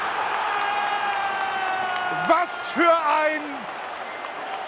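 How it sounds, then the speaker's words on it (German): A football crowd at Hafenstraße stadium in Essen during a Rot-Weiss Essen match against 1. FC Saarbrücken, with cheering swelling briefly in the background while a commentator speaks over it. "Jubelschrei an der Hafenstraße."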